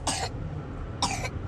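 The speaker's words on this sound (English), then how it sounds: "It's making him cough." A child coughs twice from sinus drainage, two short close coughs about a second apart over a low background rumble.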